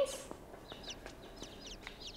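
Chickens in the video game Inside cluck in a quick run of short, fairly faint chirpy calls, with soft footsteps underneath and no speech.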